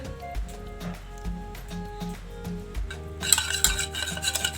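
A utensil stirs pancake batter with oil in a bowl, giving soft rhythmic scraping and clinks under a steady background hum, growing brighter and busier toward the end, with no talk.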